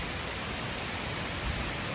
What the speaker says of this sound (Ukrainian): Ой, який дощ пішов.